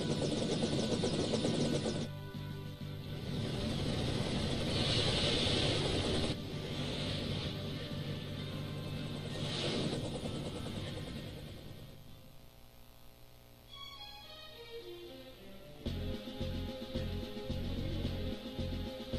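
Airship from Final Fantasy IV setting down, a loud droning engine hum with whirring rotor-like texture, shifting in pitch, then a descending chime-like sweep and a pulsing rhythmic engine tone as it lands.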